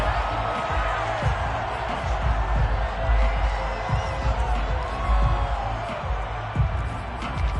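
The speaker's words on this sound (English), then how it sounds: "Plenty of shouts from this crowd as they watch the replay." Football stadium crowd shouting and murmuring in a continuous loud roar with occasional whoops, while a replay is shown, with a broadcaster's voice faintly over it.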